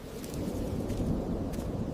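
Heavy rain pours steadily in a cartoon thunderstorm, a dense continuous roar with low rumbling thunder swelling beneath, sustained and loud throughout without any voices.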